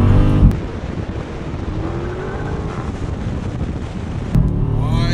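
Dodge Scat Pack engine revving hard in third gear as the car accelerates through about 40 mph, a steady loud roar with a rising tone, mixed with wind rush and brief heavier bursts at the start and end.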